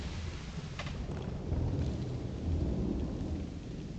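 Low, rolling thunder rumbles through a steady wash of rain in the LEGO Fortnite Odyssey video game, swelling a little partway through with no voices.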